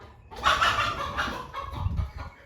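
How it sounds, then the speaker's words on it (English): A startled chicken clucks and squawks agitatedly for a couple of seconds at close range, loud bursts with a farmyard background, no talking. "I just startled that chicken."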